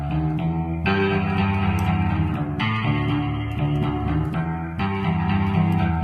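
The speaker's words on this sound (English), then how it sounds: "Let's run it through an amp so we can get a slightly brighter tone." A Geometry Dash sound sample played as a continuous amped guitar tone with reverb, chords shifting every second or so, bright and washy with a steady, full loudness throughout.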